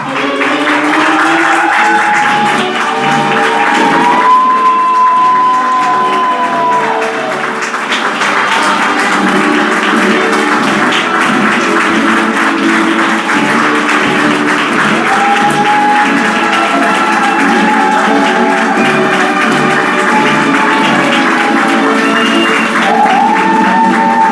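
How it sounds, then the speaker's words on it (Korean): Sustained applause fills a school graduation ceremony hall as graduates and staff enter, a dense, even wash of clapping from a large audience, with a background melody over it throughout. "이사장님, 교장님, 담임교사, 그리고 학생들이 입장할 때 큰 박수로 맞아주시면 감사하겠습니다."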